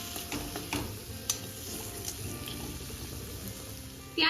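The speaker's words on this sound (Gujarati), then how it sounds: "આ જે બોઇલ કરેલા વટાણા છે ચણા છે અને તુવેર છે એ એડ કરીશું અને ત્યાર પછી એકદમ સરસ રીતે મિક્સ કરી લઈશું" Boiled peas, chickpeas and pigeon peas are stirred into a pot of khichdo. Low, gentle scraping and a faint sizzle carry on steadily with occasional light clinks, ending in a short louder burst of spoon-and-pot noise.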